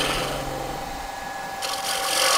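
Wood gouge carving down into a screw hole in wood, a close continuous rasping scrape with audible vibration, shifting tone partway through.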